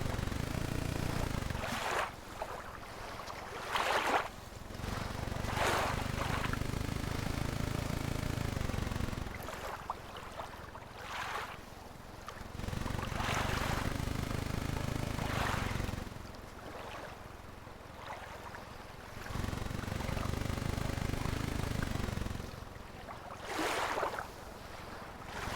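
A boat in the game Archean gives a low engine drone that surges and falls in long cycles every few seconds, with water splashing and rushing over it at a steady loudness and no talk.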